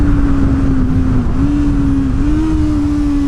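A Honda CB650R motorcycle engine holds a smooth, loud steady drone at high revs while riding a bumpy race track, with slight pitch dips between gear changes, heard up close and alone.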